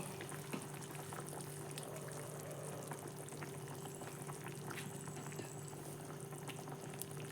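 Fish curry broth with small fish and tender pointed gourd bubbling at a steady boil in a covered pot, a faint continuous simmering fizz with a low hum in the background.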